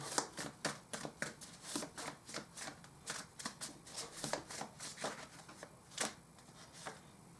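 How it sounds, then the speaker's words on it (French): Playing cards are shuffled close up, making a quick run of crisp riffling bursts at a steady rhythm with brief pauses between them, fairly quiet and with no talking. "On va essayer de battre ces cartes."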